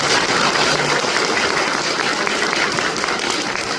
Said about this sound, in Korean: 아버님께 다시 한번 큰 박수 부탁드리겠습니다